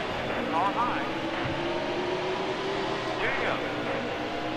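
Race cars in NASCAR Heat Evolution at Charlotte, a continuous engine drone with rising and falling whines as cars pass, steady and moderately loud under someone talking.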